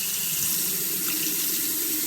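A Flow motion-activated kitchen faucet runs steadily into a stainless steel sink, a continuous close hiss and splash of water with no voices.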